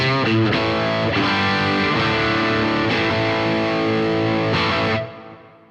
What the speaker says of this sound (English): my most distorted pedal, which I'm using this exotic BB preamp